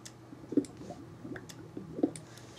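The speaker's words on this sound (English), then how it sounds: "It's all bubbling away down there." Lava in Minecraft bubbles and pops faintly in a few soft, squishy blips spaced out over a quiet underground background.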